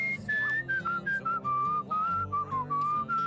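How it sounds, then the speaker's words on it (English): Melodic whistling in Where the Water Tastes Like Wine, a clear tune of short rising and falling phrases played close and alone over faint background music. "The downside of the whistling is that it overrides the music in a way that I don't really want it to."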